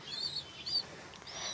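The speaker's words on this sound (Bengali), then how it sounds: "সব পায়রা চলে এসছে" Faint, high bird chirps sound twice from a domestic pigeon flock returning to its loft, thin and brief over quiet background noise.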